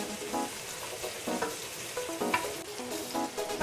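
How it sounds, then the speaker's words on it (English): Salted asparagus sautéing in a pan for pasta with shrimp, a steady close sizzle and fry with a few utensil stirs and clinks scattered throughout. "we're going to saute it for about 8 to 10 minutes"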